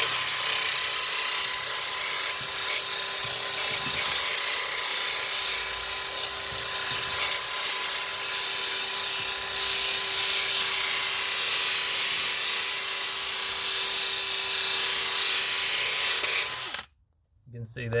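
A hand drill linishes a Harrop supercharger part for an FPV Falcon with 120 grit abrasive, producing a loud, steady high-pitched whine with a faint tonal hum, running continuously close up before cutting out near the end.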